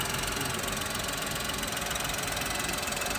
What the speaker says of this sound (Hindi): मैं चाहता हूँ कि इंजन की आवाज़ सुन लें